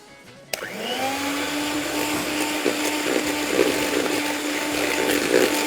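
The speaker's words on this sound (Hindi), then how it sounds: "आ जाते हैं यहाँ पे बीटिंग की तरफ, और आइसिंग शुगर और मक्खन सबसे पहले" An electric beater whirs steadily as it creams icing sugar and butter for a pineapple upside-down cake. The motor starts abruptly and then hums continuously and loudly, with no talking.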